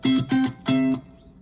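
Three hard-struck electric guitar notes, two short and one held longer, loud and distorted with a ringing tone, no talking.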